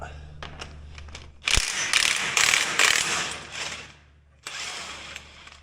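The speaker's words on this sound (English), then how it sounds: "I'm just gonna pull these bolts out here because it's a threaded C" A hand ratchet backs bolts out of a threaded component in a workshop: a few quick clicks, then loud close bursts of rapid ratcheting in several runs separated by short pauses.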